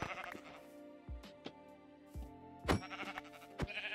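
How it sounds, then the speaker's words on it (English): Sheep in the Minecraft video game bleating in several short separate calls, fairly quiet over a faint background, with no talking over them. "Sheep!"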